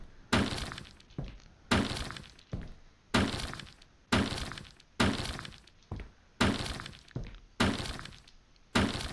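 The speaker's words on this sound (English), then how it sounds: "I'm smashing stuff up." Glass and objects being smashed in the Hotel Renovator video game, a series of about eight loud crashing, shattering impacts at a steady rhythm, each followed by a short decaying tail, with no talking.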